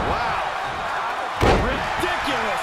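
A wrestler's standing shooting star slam in the WWE 2K22 wrestling game lands as one sharp, heavy impact midway through, over continuous crowd noise and commentary.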